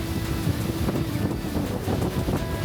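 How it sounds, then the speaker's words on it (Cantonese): A strong wind buffets the microphone in an unbroken low roar at Blue Pond Beach, a cove in Bali with a rocky cave, where big waves break in stormy weather. "但其實我行落嚟嘅時候係大風到唔係好企得穩"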